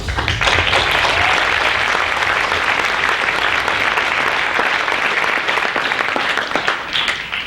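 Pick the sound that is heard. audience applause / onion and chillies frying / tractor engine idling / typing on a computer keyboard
audience applause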